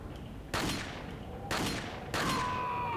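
Three sharp gunshots from a sniper-style rifle in Resident Evil 4 on the Wii, fired while riding a gondola, each crack loud and close with a trailing echo, spaced roughly a second apart.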